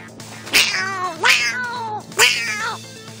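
Cats meowing in the video game Minecraft: three drawn-out, plaintive meows spaced about a second apart, close and clear over a faint background hum, with no talking.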